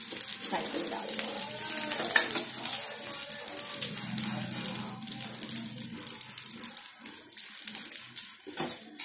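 Mooli paratha cooks in a pan on lowered heat, sizzling and crackling steadily in oil, with some stirring and clattering noises and a voice in the background.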